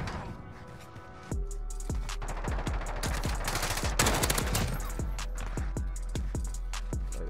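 Gunfire in the Call of Duty Modern Warfare video game: a string of sharp, close shots in rapid succession, thickening into a dense volley midway before settling back into spaced single cracks.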